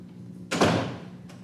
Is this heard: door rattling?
yes